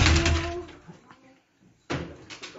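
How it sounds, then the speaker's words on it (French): Doors opening on entering the premises of ABM Profils, with one burst of door noise at the start and another after a brief near-quiet pause, fairly close and moderately loud. "Attention les portes."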